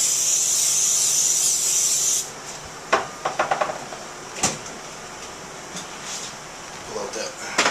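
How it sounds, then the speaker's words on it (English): Pam cooking spray hisses steadily into a frying pan for about two seconds, followed by a few close clattering knocks. "Spray it down with some Pam."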